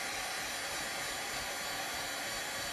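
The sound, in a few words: heat gun at low power warming chair wood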